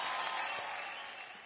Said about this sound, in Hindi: गुंजन, ये जो ताली अब तक बज रही है, ये तुम्हारे लिए नहीं है